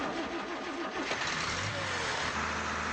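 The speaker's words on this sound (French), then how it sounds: "remplace l'or noir par un vulgaire or blanc, et voilà la machine qui pétarade à tout va" A Pantone engine runs rough and sputters, a steady loud mechanical clatter with uneven popping, close by and continuous, with no voices.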